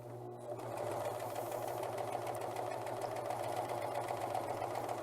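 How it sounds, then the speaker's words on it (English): Sewing machine gathering quilting cotton into ruffles for an apron, a continuous close mechanical hum with fast even stitching ticks that starts quietly and then runs steadily. "So as I'm sewing, I want you to be watching right here, and you'll see how the fabric is gathering up."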